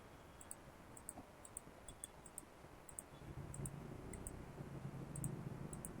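Soft, regularly spaced mouse clicks tick away while an outline is traced point by point in design software, faint and close over a quiet room hum that grows slightly louder midway.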